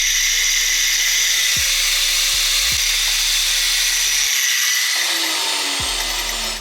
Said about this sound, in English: what I'm gonna do is just use my angle grinder and just cut right through this